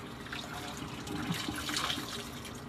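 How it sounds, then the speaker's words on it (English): A scrubber ring is swished around in a sink of dishwater, giving a faint, continuous sloshing and splashing with soft drips, steady throughout and without talking. "I just swish it in the water real good."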